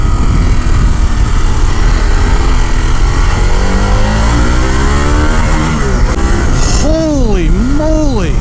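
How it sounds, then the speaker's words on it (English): A Harley-Davidson Pan America 1250 Special motorcycle engine pulls hard under acceleration, a loud, close, continuous roar with rising pitch and quick shifts, mixed with heavy wind rush. "I cannot believe the power this bike has based on other riding experiences from Harley."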